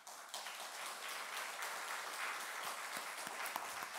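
A church congregation applauds warmly during a Sunday morning worship service, a steady wash of many hands clapping at moderate volume that holds evenly throughout, with a few sharper claps standing out near the end.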